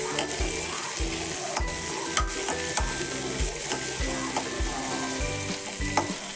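Moong gathi ingredients roast lightly in oil, with a rhythmic spoon scraping and stirring in the pan over a continuous sizzle, strokes coming roughly every half second.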